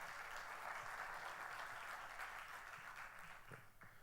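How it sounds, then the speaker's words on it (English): Sustained audience applause for the sponsors at the AU Middle East 2018 welcome address, a steady dense wash of clapping from a large hall crowd, filling the clip evenly without speech. "So just a quick round of applause"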